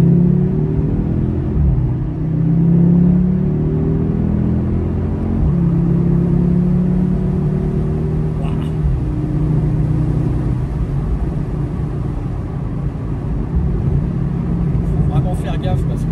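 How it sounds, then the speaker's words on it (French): Audi TTS with a 320 hp engine pulling hard in manual dynamic mode, a steady close low engine rumble rising and falling throughout, heard from inside the car. "On va se faire une petite accélération quand même pour que vous voyez."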